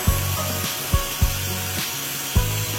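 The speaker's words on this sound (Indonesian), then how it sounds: "dihilangkan terlebih dahulu catnya dengan menggunakan mata gerinda amplas seperti ini ya teman-teman" An angle grinder fitted with a sanding disc strips paint from a bicycle frame, a low rough grinding drone broken by repeated scraping strokes, close and fairly quiet, with no talking.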